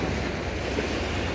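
Sea waves wash steadily onto a cool October beach in Turkey, a close, continuous surf roar with some wind noise and no voices.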